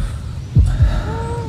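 A heartbeat in the horror video game Folklore Hunter: two low, heavy thumps in quick succession over a steady low hum, followed by a faint rising tone.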